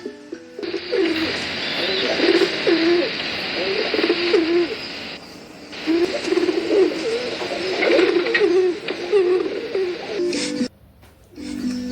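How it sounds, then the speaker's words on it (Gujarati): Soft, repeated pigeon coos roll along in a steady rhythm over a hissing background, pausing briefly and then carrying on. "કબૂતર."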